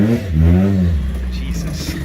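A Mazda Miata idles steadily after start-up, a low engine hum with a brief rev-like pitch swell early on, while people talk over it.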